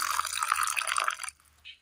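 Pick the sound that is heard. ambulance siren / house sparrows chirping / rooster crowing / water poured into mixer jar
water poured into mixer jar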